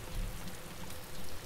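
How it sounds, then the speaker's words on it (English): Rain falls in the video game DayZ, a faint, steady wash of patter and drips heard alone. "I can hear rain."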